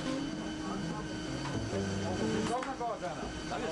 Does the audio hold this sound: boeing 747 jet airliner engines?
yes